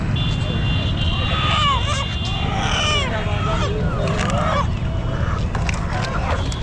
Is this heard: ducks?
yes